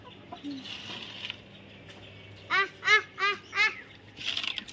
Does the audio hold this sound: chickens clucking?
yes